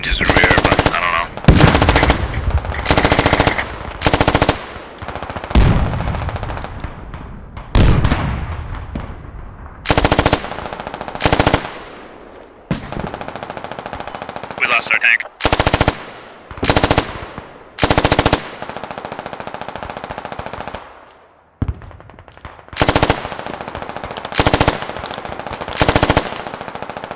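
Bursts of machine gun fire in the video game Squad, loud and close, coming in repeated rapid volleys separated by short pauses, with some quieter distant shots between them.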